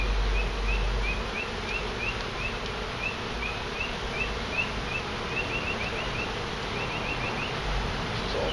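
Honey bees buzz continuously during a hive removal, a dense close drone with individual bees zipping past, loud and unbroken throughout with no voices.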